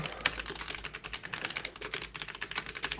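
Rapid, uneven clicking of fingers typing on a computer keyboard, close and moderately quiet, with a steady stream of sharp keystrokes and no voices over it.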